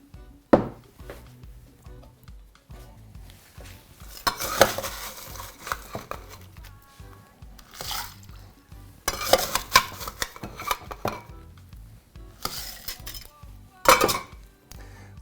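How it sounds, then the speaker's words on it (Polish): Crushed ice rattles and clinks in a glass as a Queen's Park Swizzle cocktail is stirred with a swizzle stick, in irregular bursts of clattering that come close, loud and uneven. "wszystko dokładnie mieszam"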